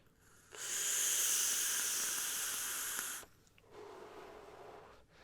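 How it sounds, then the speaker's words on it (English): A Wismec HiFlask AIO vape at full power on a fairly fresh battery with the airflow wide open gives a loud, steady airy hiss for about three seconds, followed by a softer exhaled breath. "So this is a vape on it, fully max, fairly fresh battery, fully wide open airflow"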